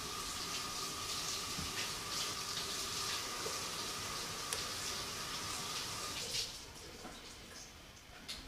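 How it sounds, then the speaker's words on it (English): Tap water runs steadily over a cutting board in a kitchen sink while preparing chicken noodle soup, a close splashing gush that drops to a quieter trickle near the end; no talking. "So just a quick rinse will get us started."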